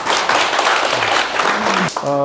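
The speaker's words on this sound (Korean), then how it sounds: "다시 한번 박수 좀 보내주세요." Audience applause at a New Year gathering, a dense burst of clapping from a seated crowd, with a voice speaking over it near the end.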